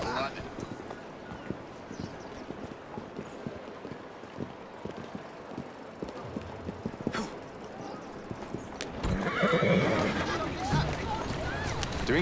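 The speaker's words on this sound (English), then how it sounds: "Who's a good horse?" A horse's hooves clip-clop steadily on street cobbles in the video game Assassin's Creed Syndicate, set in Victorian London, with carriage rattle and a louder bustle late in the clip. Voices speak over the hoofbeats.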